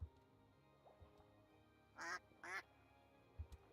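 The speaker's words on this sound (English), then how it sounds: "Hello, duck." A duck in Minecraft gives two clear quacks in quick succession, close and fairly loud against a quiet background, with a few faint knocks around them.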